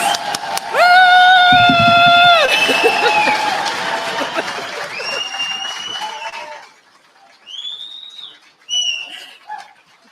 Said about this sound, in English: So you can clap, stamp your feet, bang the tables, cheer, but let's make some noise to thank Pembrokeshire volunteers.